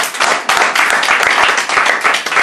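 Loud, close clapping and applause from an audience at an activist talk in Vigo, Spain, a brisk dense patter of hands with a few heavier claps, brief and continuous without talk.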